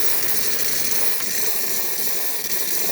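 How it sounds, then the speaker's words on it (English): Steam hisses loudly and steadily from the wand of a Saeco espresso machine, a dense broadband rush that holds for the whole stretch with a faint low hum dropping away partway through. "nice beautiful steam coming out of the machine"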